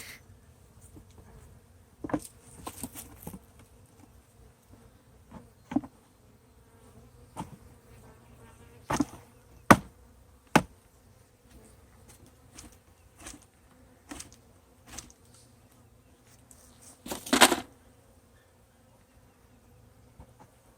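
Honey bees from a swarm buzz around a flowerpot swarm trap, a low steady drone with individual bees zipping past close by in loud intermittent passes.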